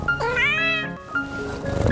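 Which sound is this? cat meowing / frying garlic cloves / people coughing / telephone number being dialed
cat meowing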